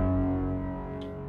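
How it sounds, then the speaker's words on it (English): A sustained, droning wavetable synthesizer tone from an Elektron Digitakt with heavy echo and reverb, fading slowly, with a brief bright shimmer near the end. "just see how it sounds with some delay and reverb"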